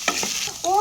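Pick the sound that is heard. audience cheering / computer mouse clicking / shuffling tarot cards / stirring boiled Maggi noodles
stirring boiled Maggi noodles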